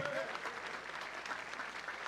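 Quiet applause from an audience at a musical tribute show for the band leader, a brief, distant-sounding spread of many hands clapping, with a short vocal note at the very start.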